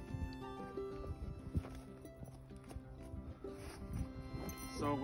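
A pony being blanketed outdoors in falling snow shifts and steps with clip-clop hoof sounds and occasional snorts, close by, while a person speaks over the movement.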